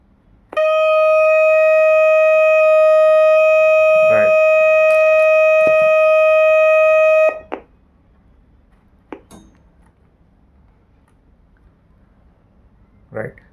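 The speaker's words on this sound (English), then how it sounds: "both the bulb was lit and the sound started coming out of the alarm" A tripwire alarm sounds after its wire is disconnected: a loud, steady electronic tone with harmonics holds for about seven seconds, then cuts off, with a few faint clicks and knocks afterward.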